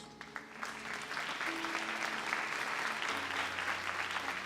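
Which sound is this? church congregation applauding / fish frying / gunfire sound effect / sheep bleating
church congregation applauding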